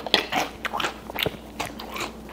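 Crunchy cereal eaten up close, with crisp, irregular bites and chewing crunches in a quick rhythm and no talking.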